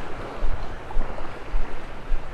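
Small waves lapping on the shore at Vanderbilt Beach in North Naples, Florida at daybreak, a steady wash of soft surf with gentle surges and no voices.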